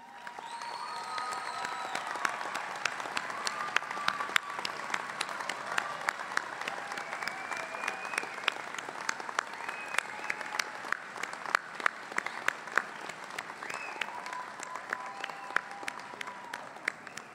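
Sustained applause from a large audience at a university commencement ceremony, steady and even throughout, with a few faint voices mixed in.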